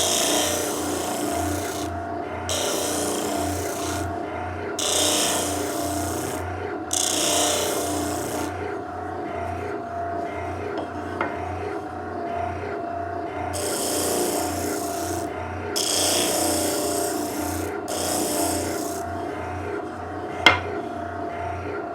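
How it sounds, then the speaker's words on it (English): Hand finish-sanding of wood for a tool chest makes rhythmic raspy strokes in bursts of about a second, pausing between passes, close and fairly quiet over a low background hum, with no speech. "now we just have a little bit of finish sanding to do"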